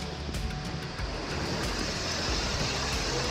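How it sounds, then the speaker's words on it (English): Crystal Brook Falls on Mount Buffalo pours as a loud, steady broadband roar, with constant rushing water and wind-like noise filling the whole stretch and no talk. "I'm at the third waterfall. It's Crystal Brook Falls,"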